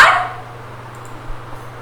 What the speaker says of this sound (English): D for dog. Bow wow.